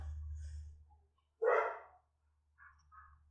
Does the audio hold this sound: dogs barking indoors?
yes